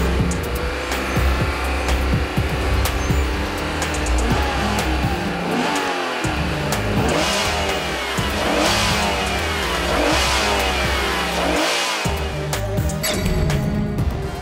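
A Honda NSX's naturally aspirated engine, hand-built to F1-grade tolerances, revs hard in repeated rising sweeps up and down the rev range, loud and close, with a brief tire squeal and no talking.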